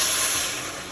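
A brief, bright hiss and rushing pour of boiling water into a pot of ghee rice up close, fading slightly toward the end.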